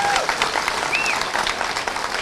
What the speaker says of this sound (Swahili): Tupigie Kalonzo makofi.